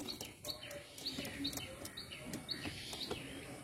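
Pigeons kept for sale, with soft bird calls and faint chirps repeating at a steady pace over a quiet, low background, fairly distant and gentle.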